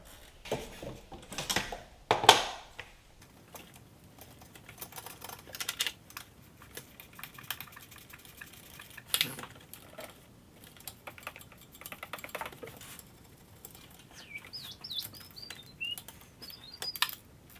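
A ratcheting wrench tightens the glow plug bracket bolts on a Jeep Liberty CRD diesel, giving sparse, faint clicks and ticks with a few sharper knocks and quiet gaps between, no talking.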